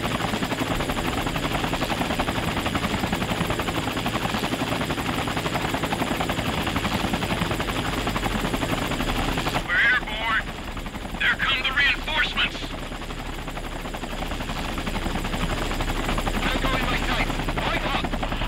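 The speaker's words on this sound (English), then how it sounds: "Damn, Chopper showed up quick." Helicopter arriving during a firefight in the Sniper Ghost Warrior 3 video game, its steady loud rotor thrum running throughout, with a burst of sharper gunfire-like crackle in the middle.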